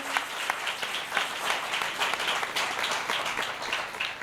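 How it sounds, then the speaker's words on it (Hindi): Congregation at a Christian television anniversary gathering gives strong applause for the team and the pastor, a dense, sustained burst of many hands clapping at close range. "ज़ोरदार तालियां सारी टीम के लिए, पास्टर साहब के लिए"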